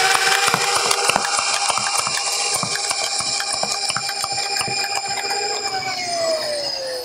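A Worker Dominator three-stage flywheel foam dart blaster runs steadily, its motor whine held under a rapid series of clicking shots as darts fire, close and loud, with the motor pitch dropping as it spins down at the end.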